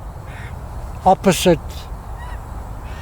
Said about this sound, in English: Oh, a bunch of magpies have just turned up.